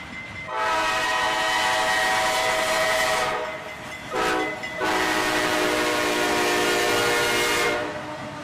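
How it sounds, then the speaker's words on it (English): A freight train with a three-unit locomotive lash-up, including a YN2 and a GP38, passes close by. Its horn sounds loudly in a long blast, a short blast, then another long blast over the rumble of the rails. "this 3-unit lash-up with a YN2 locomotive and a GP38 in the mix"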